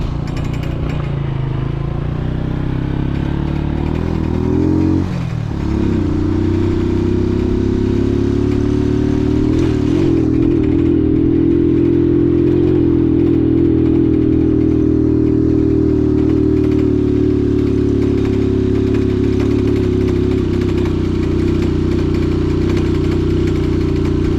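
A motorcycle rides through a village with a loose rear screw, its engine a loud, steady, close drone with a rattly edge that dips briefly and then climbs and holds a higher pitch, with no talking.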